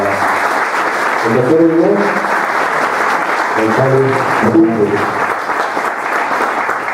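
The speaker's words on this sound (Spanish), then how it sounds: "vamos a pedir un fuerte aplauso, por favor" Loud applause fills a public presentation of a holistic method, a steady crowd roar with a voice announcing over it partway through.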